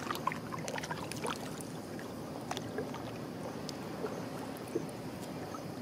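Scattered splashes and sloshing as water spills over in bursts, a few sharper spatters standing out against a low, steady wash.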